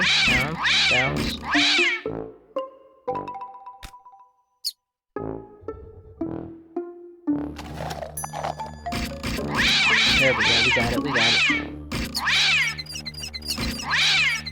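A cartoon cat meows repeatedly in the puzzle game Contraption Maker, with loud drawn-out calls, a short gap of small clicks and dings, then more meows. Someone speaks briefly partway through.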